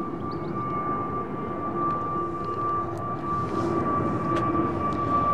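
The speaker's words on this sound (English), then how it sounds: "let's get this Dreamliner lining up" A Boeing Dreamliner lines up on the runway at London Heathrow, its engines giving a steady, loud broadband roar with a sustained whining tone running throughout, no voices over it.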